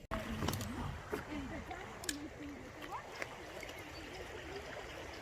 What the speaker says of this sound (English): Look at this beautiful creek.